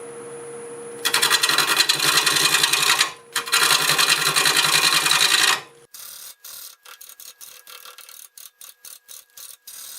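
A wood lathe turns a black locust bowl at about 650 RPM. A steady, loud mechanical whir with gritty cutting noise is briefly interrupted, then gives way to short, choppy scraping bursts, with no talking.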